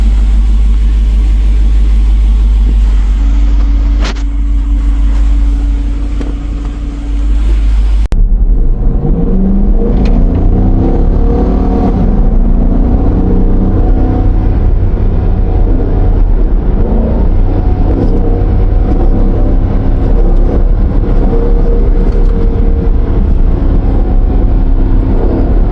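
Dodge Durango V8 engine held at high RPM while driving on streets and highways, a loud, sustained droning roar that shifts pitch partway through and then keeps rumbling steadily.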